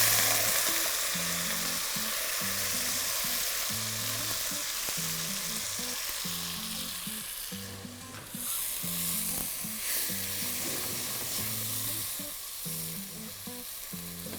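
Dal hits hot ghee already crackling with cumin and red chili, giving a loud, steady sizzle and frying hiss up close, broken by the rhythmic scrape of a stirring spoon throughout with no voices.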